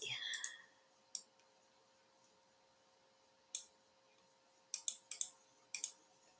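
Computer mouse clicks in quiet room tone: a few isolated clicks early, then a quick cluster of several near the end, crisp and close.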